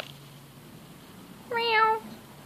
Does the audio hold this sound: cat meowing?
yes